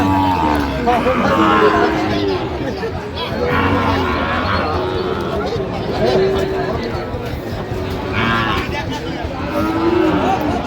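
Sahiwal bull mooing at a cattle market in Cox's Bazar, several long, deep, drawn-out moos at fairly regular intervals, close by, with people talking and haggling in the background.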